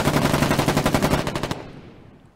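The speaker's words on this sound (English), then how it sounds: "I had a couple seconds of machine gun fire, then and a ton of machine gun fire." Rapid machine gun bursts in the war game Foxhole, a loud, rhythmic string of shots firing for about a second and a half before cutting off into a fading tail.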